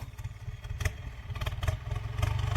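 A Ford 6640 tractor engine runs steadily at close range, a low throbbing rumble with light mechanical clatter and occasional louder surges, no voices over it.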